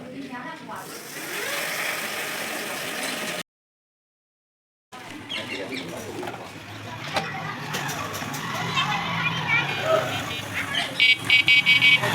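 A 350W hub motor on an electric bicycle conversion spins the rear wheel, giving a steady buzzing whine with some rattling. The sound drops out briefly and then returns stronger, with a person talking over it.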